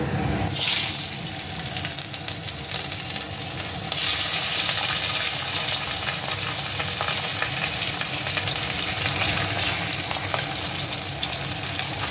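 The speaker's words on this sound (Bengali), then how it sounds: "কাতলা মাছ ভেজে নিব।" Katla fish fries in hot oil in a home kitchen, a steady broadband sizzle that swells louder partway through and continues without talk.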